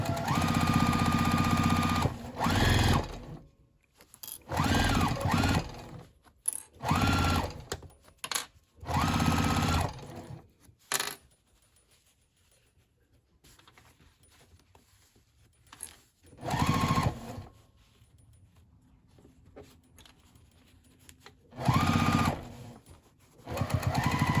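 A sewing machine back-stitches a half-inch seam on a fabric bag, with several short bursts of rapid mechanical whirring and pauses in between.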